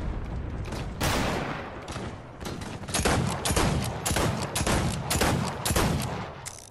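Gunfire in a Wild West shooter game rings out as a dense run of sharp shots and rapid bursts, loud and close, with a few heavier blasts, repeating steadily across the whole stretch.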